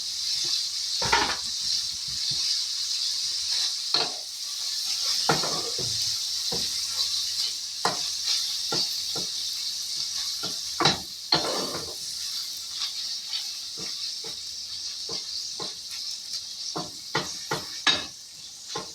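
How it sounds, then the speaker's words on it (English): Ground beef hamburger meat fries in a pan for tacos with a steady soft sizzle, punctuated by scattered sharp clicks and scrapes from stirring, fairly close and moderately quiet. "we're going to let this hamburger meat cook until it's done"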